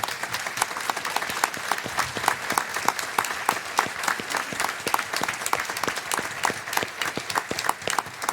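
Audience applause at a diocesan synodal assembly in Évry, a steady dense clapping from a large crowd that carries on evenly throughout, fairly close and with no voices over it.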